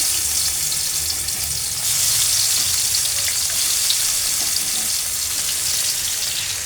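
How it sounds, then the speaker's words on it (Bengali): Meat kebabs frying in hot oil, a dense, steady sizzle heard up close that swells slightly after the first couple of seconds and holds throughout. "আমি এখন এগুলো তেলের মধ্যে দিয়ে ভেজে নেব"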